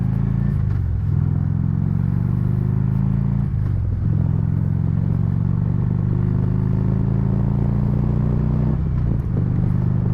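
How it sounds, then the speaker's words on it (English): A 2015 Harley-Davidson motorcycle speeds up a back road, its loud steady engine drone rising in pitch through the gears, with two brief drops at shifts before climbing again, close and continuous with no talking. "we're just going to go ahead and go up this back road here, go a little faster, feel the wind resistance"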